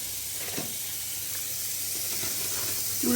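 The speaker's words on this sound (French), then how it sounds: "Et on va mettre les oignons." Onions going into a hot pan in a home kitchen while a spätzle gratin is made, giving a steady soft sizzle and hiss with faint clinks, fairly quiet and without talk.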